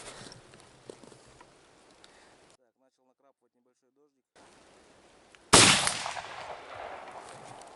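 A loud shotgun blast from an IZh-K 12-gauge double-barrel firing a wadless Leningradka slug cartridge, sharp and close after a stretch of near silence, with a long decaying echo; people talk quietly beforehand.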